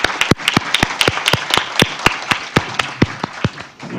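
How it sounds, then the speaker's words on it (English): Audience applause for a symposium panel, heard as a sparse, loud run of separate claps with distinct gaps between them. "let's give them a round of applause."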